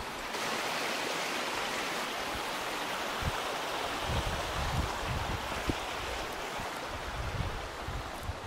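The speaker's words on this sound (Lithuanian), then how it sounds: "Čia upė. Turėsim upę kirsti." A river stream in Yosemite being crossed on foot, with steady broadband rushing water running throughout and occasional low splashes and thumps from wading, close and continuous with no talk.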